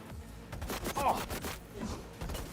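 Gunfire from above in Cyberpunk 2077 Phantom Liberty, a faint, continuous muffled fusillade of rapid shots crackling steadily throughout under the game's background noise.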